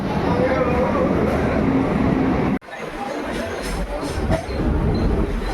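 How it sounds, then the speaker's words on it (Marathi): A crowded local train near Bhayandar station rumbles steadily as it moves, with passengers chattering throughout; the din cuts out abruptly for an instant midway, then resumes with the same rolling rumble and murmur of voices. "तर मित्रांनो आम्ही फायनली ट्रेनमध्ये बसलेलो आहे"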